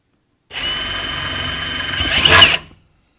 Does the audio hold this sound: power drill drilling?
yes